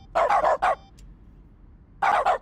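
A dog in The Stanley Parable gives a quick burst of four barks, a pause, and then two more barks. They are close and clear against a quiet background, with no talking.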